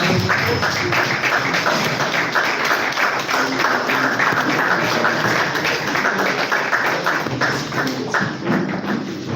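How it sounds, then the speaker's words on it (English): An audience at a mentorship scheme graduation ceremony applauds with sustained, dense clapping that stays loud and steady throughout, filling the hall without pause. "A round of applause for her."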